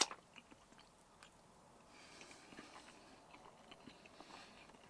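Someone close by eats chocolate cake, soft quiet biting and chewing in an irregular rhythm against a hushed motorhome interior.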